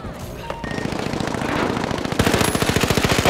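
Rapid automatic gunfire fills a gunfight in the video game The Finals, loud and continuous bursts that speed into a dense, rhythmic rattle toward the end, with no speech.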